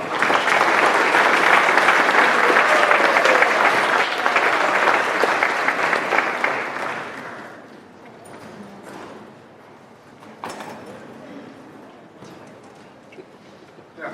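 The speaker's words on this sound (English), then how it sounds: "Please a very warm welcome this afternoon, Matt Samost, Jeff Vinik." Large audience applauding loudly to welcome speakers on stage, a dense wash of clapping that fades down to scattered claps about halfway through.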